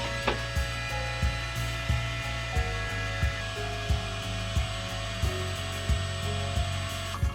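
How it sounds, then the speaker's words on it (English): Heat gun running steadily at close range while shrinking heat-shrink tubing over spade connectors on bilge pump wiring aboard a Sea Ray SLX 30-foot cruiser, a continuous blowing whir with a faint rhythmic ticking throughout. "I'm going to use these spade connectors, and I'm still going to heat shrink the connection over them"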